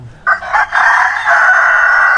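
A rooster crows loudly and close in a farm setting where egg-laying hens are kept, one sustained strained call rising out of a brief clucking start, with no talk.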